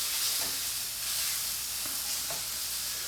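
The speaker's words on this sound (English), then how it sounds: "don't forget you're not cooking it, you're just searing the meat" Beef searing in a hot frying pan while a steak and Guinness pie filling is prepared, giving a steady close sizzle with a few soft stirring scrapes and no talk.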